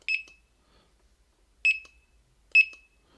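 A handheld barcode scanner gives three short, clear electronic beeps while scanning inventory, with the first two spaced well apart and the last following closely, all set against near silence.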